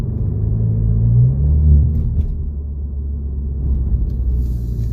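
An Alfa Romeo Giulia Q4 is driven in A mode, heard from inside as a steady low engine and road rumble that swells briefly and then settles into an even drone, with no talk.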